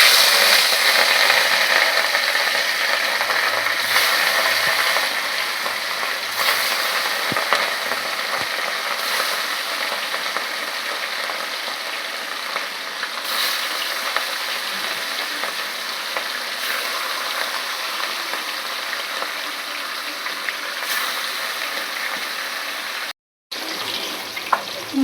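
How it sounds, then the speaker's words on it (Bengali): Rohu fish frying in hot oil, a steady, dense sizzle that holds at an even level almost the whole time with one brief dropout near the end, and no voices. "এবার রুই মাছগুলো আমরা ভেজে নেব।"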